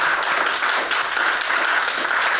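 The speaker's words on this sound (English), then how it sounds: "Round of applause," Steady, loud applause from a theatre audience at a live festival show in Edinburgh's Newtown Theatre, continuous clapping throughout.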